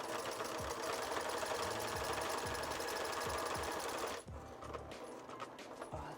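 A sewing machine stitches the center vein of a fabric leaf with rapid, rhythmic needle chatter, loud and close, then stops abruptly near the end, leaving a quieter room.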